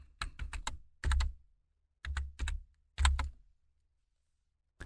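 Keys clatter on a computer keyboard in short close bursts of rapid taps separated by pauses, crisp and alone with no talking.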